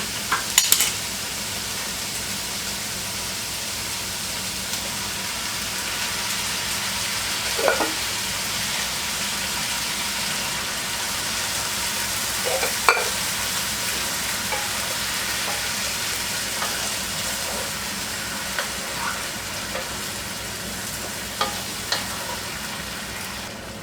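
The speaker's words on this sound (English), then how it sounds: "Now I'm just going to let this cook." Cajun chicken simmering with tomatoes in a pot gives a steady, soft sizzle and bubbling that runs throughout, with a few faint clinks of a spoon against the pot and no talking.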